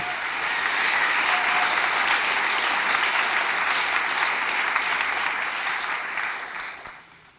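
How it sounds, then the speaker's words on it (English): Sustained applause from an audience at a presentation hall honoring the mayor and council, dense steady clapping filling the room for several seconds before tapering off at the end. "join me in applauding your mayor and council"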